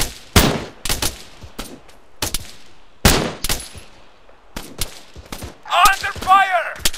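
Gunfire in the military video game Arma 3: sharp, loud shots arrive in bursts and single cracks with echoing tails, and a shouted voice cuts in near the end.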